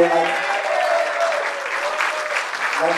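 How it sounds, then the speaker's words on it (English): Concert audience applause for a band performing at the Vera, a brisk burst of clapping over a lingering sustained tone, with voices faintly mixed in. "a round of applause for Finn Records"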